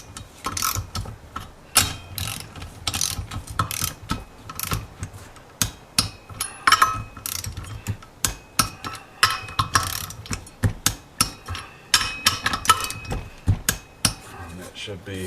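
Ratcheting torque wrench snugging the rear wheel nuts on a 1973 Honda CB750, a steady series of sharp metallic clicks in repeated bursts, close and loud, with someone talking at times.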